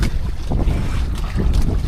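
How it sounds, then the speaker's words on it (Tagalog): Strong wind on choppy sea during night fishing buffets the microphone in loud, uneven gusts, rumbling steadily with no voices. "Mahangin na."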